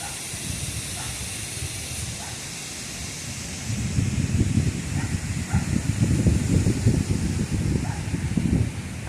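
Wind blowing through trees during a rain storm, a broad steady rush that swells louder partway through, with gusty low rumbling and faint scattered sounds in the background.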